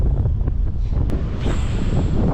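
Strong wind buffeting the microphone while fishing on a pond in early spring, a loud continuous rumbling roar with gusty swells and a brief sharp knock.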